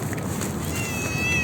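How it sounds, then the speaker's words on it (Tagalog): A cat meows outdoors at night on a flooded street after rain, a faint tonal cry over steady rain and water noise, with no talking. "May pusa."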